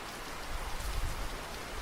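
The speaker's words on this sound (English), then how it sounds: "the rain started to fall" Steady rainfall patters on surfaces, a dense, even hiss of drops heard close and without any voices.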